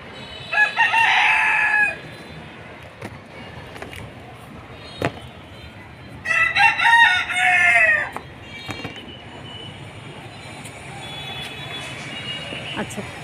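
A rooster crows loudly and close by twice, each call lasting over a second, with hens clucking quietly and scattered knocks in between at a rooftop garden.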